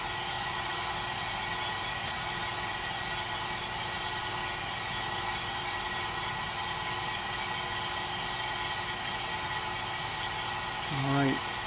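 A home coffee roaster runs with its drum turning and airflow blowing, a steady broadband whir and hum held close and level throughout, with a faint brief thump near the end.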